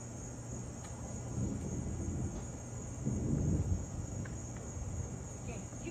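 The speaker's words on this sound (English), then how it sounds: "I can hear the thunder, right?" Distant thunder rolling low and faint behind a steady chorus of crickets outdoors, swelling twice into soft rumbles while a voice speaks quietly.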